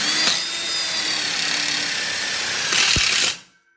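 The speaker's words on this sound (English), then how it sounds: "So now we're going to screw it in." A power drill drives a screw into a diagonal corner module, a steady whirring buzz running for about three seconds, rising briefly near the end before stopping, close and loud with no talking.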